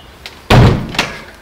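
A door is kicked with a foot: one heavy, loud slam thuds near the middle, then a smaller knock follows about half a second later, with faint movement before it.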